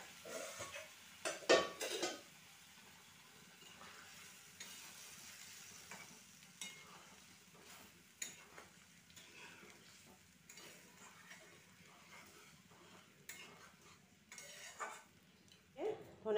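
Milk-soaked gulab jamuns being poured into a simmering curry and stirred in a pot, with soft sizzling, a few sharp spoon and pan clinks, and quiet scraping stirs spread across the stretch.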